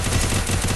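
M249 machine gun fire in the Free Fire battle royale game, a loud, dense, continuous burst of rapid gunshots that fills the whole moment.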